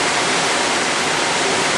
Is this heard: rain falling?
yes